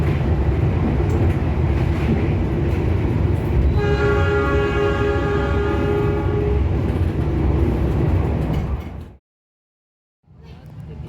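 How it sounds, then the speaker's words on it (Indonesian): A Pangandaran passenger train crossing the Argo Wilis express at a station: loud steady rumble of passing railcars with a long multi-tone horn blast, then a sudden drop to near silence before the rumble returns. "Lagi dan lagi kereta api Pangandaran harus mengalah bersilang lagi."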